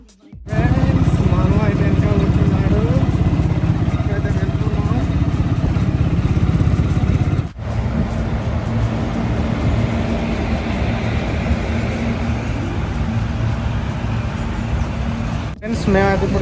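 Auto rickshaw engine droning steadily while riding with a bicycle tied on board, a loud continuous rumble with road noise that shifts briefly partway through, with voices talking over it.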